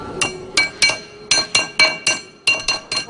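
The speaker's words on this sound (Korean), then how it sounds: "눌러 보다 단단하게 만드는 단조 작업" A hammer forges a bronze plate for traditional Korean brassware, giving about a dozen sharp, bright metallic clinks in an irregular quick rhythm, loud and close with brief ringing after each blow.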